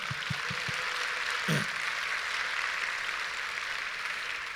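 Continuous applause from a church congregation at an anniversary revival meeting, a dense wash of clapping with a few brief low thumps and a short vocal sound near the start.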